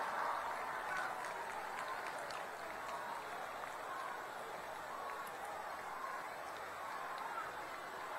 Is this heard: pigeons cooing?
no